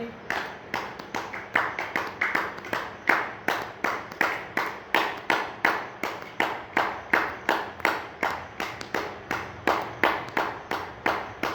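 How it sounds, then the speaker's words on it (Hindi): A group claps hands in a steady, evenly spaced rhythm, around two to three claps per second, sustained for the whole stretch at moderate loudness. "ताली बजाएंगे।"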